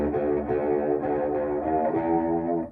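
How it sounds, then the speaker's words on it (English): Sustained electric guitar chords washed in heavy reverb, ringing with a hollow, smeared tail that fades at the end. "So you can just drench a lot of reverb on there."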